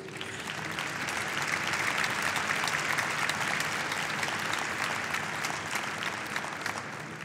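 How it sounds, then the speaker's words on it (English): Sustained applause from an audience, steady dense clapping that fills the whole stretch without a break. "you interrupted it by the applause"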